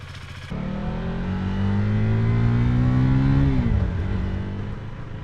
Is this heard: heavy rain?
no